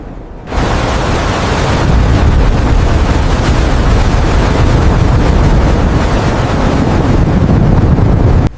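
Stormy wind and waves at sea aboard a ship in severe weather, a loud constant roar of wind buffeting and surf that starts abruptly and holds steady throughout.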